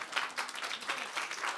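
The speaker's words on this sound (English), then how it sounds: "Give her a big round of applause." A short burst of applause at a wedding toast, a crowd of guests clapping in a lively, pulsing patter from close by, steady for the whole moment.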